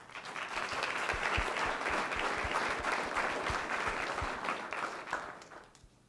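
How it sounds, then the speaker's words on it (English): Sustained audience applause at a school board meeting honoring young students, steady dense clapping from a large crowd that swells then tapers off near the end. "We could give one more round of applause to all these deserving young people."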